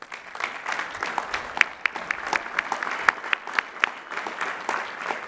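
An audience at Lehigh University's spring commencement applauds Bachelor of Science degree recipients, a moderate, steady clapping with occasional sharper individual claps standing out close by.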